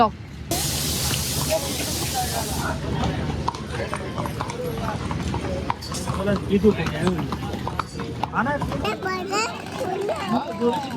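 Quick, rhythmic clip-clop of horse hooves walking throughout, in Matheran, with children's voices and chatter mixed in.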